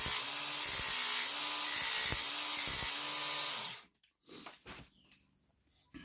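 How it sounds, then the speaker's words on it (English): Obsidian knife tip being ground to sharpen it for a bubble obsidian neck knife: a loud, steady rasping grind for about four seconds, then stopping abruptly, followed by a few faint scraping touches. "I need to sharpen it up. Grinding noise,"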